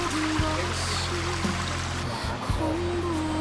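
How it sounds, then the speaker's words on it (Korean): Water from a stream flows steadily along a temple forest trail in Yangpyeong, Gyeonggi-do, a soft continuous wash heard alone, with occasional faint bird calls above it. "아름다운 새소리 물소리 들으면 눈과 귀가 정화되는 것 같아요"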